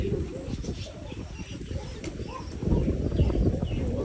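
Pigeons coo in a village yard on a hot summer day, soft repeated calls close by over a constant rustling bed of noise that grows louder toward the end, with no talk.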